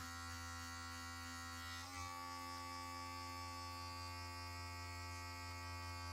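An electric hair trimmer buzzes steadily and close while cutting Afro hair during a mid fade haircut, a faint continuous hum with a brief shift as it meets the hair.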